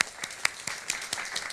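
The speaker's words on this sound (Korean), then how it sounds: "주님께 감사와 영광의 박수 올려드리겠습니다" A church congregation applauds during a Sunday worship service, sparse, scattered claps in a short, moderately quiet burst with no voices over it.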